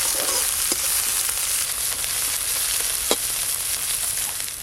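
Chopped onion, slit green chilies and peeled garlic cloves fry in hot oil with a steady, dense sizzle throughout, a few sharp pops and crackles standing out, close and fairly loud with no talking.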